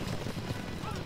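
Horses' hooves clip-clop in the medieval castle strategy game Stronghold, a steady clatter of hoofbeats with a voice-like murmur in the busy game soundscape.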